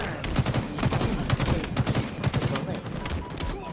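Rapid bursts of video game gunfire from a Halo-style slayer match crackle almost nonstop, dense and loud, with a few voices faintly underneath.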